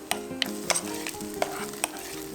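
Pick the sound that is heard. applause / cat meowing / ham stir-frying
ham stir-frying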